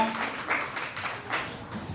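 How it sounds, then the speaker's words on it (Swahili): A church congregation at a Sunday service clapping their hands together in a brisk, steady rhythm of close, moderately loud claps, with no voices over it. "Si upige hizo makofi."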